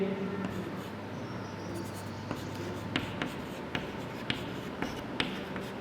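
A pen scratches across paper in close, steady strokes for a maths problem, with light repeated tapping clicks as words are formed, over a faint background hum.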